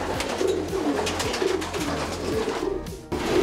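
A racing pigeon coos repeatedly in a soft, low, rhythmic pattern, close by, amid a faint background hum and scattered rustling.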